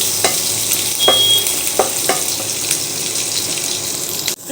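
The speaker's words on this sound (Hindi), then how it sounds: "सरसों का तेल हमारा गरम हो चुका है। अब इसमें डाल देंगे प्याज और हरी मिर्च एक साथ ही डाल देंगे।" Onions and green chillies sizzle in hot mustard oil, a bright continuous frying hiss with a few sharp stirring clinks, close and loud with no speech.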